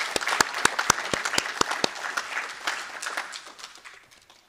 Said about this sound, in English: can I ask everyone to give the VC one other round of applause?